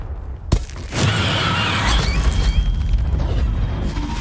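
A Confringo blasting spell cast in a Hogwarts video game bursts with a sharp crack, then a loud, sustained roaring blast of crumbling, debris-like rumble that lingers for several seconds.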